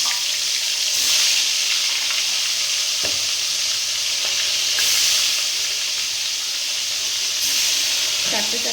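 Tilapia fish sizzle and crackle steadily in hot oil in a pan, a loud, continuous frying hiss with occasional sharper pops and faint utensil scrapes.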